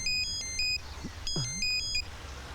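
A telephone rings in two clear electronic bursts of stacked bright tones, separated by a short gap, with faint background noise and no talk.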